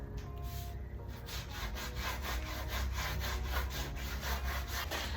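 Wet sanding on the body panel of a 1961 Ford Falcon wagon, a rhythmic back-and-forth scrubbing of abrasive over metal with even strokes repeating roughly every third of a second, close and steady.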